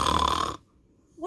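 A voice imitates a sleeping bear's snore during a storybook reading, one rasping drawn-out snore that stops abruptly into silence before a faint breath at the end.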